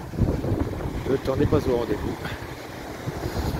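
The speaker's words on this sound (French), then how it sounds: "Désolé pour le vent, si ça s'entend." Wind buffets the microphone with steady low rumble while a person speaks; a faint wash like sea or waves sits underneath.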